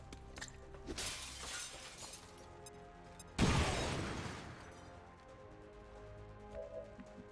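A grenade in XCOM 2 Long War bursts with one sharp, shattering explosion midway, loud and sudden with a brief debris rumble trailing off, set against quieter background ambience.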